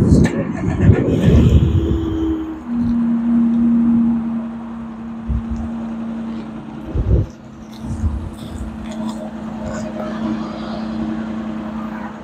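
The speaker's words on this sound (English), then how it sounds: "Let's go ahead and do a cold start on it." A 2023 Nissan Frontier SV pickup starting cold outdoors, with a loud burst at the start settling into a steady, low idle hum under wind noise, with a brief thump partway through.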